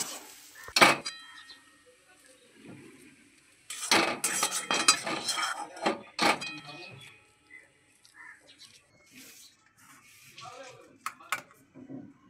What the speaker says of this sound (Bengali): পুরটা আমরা একটা পাত্রে ঢেলে নেব।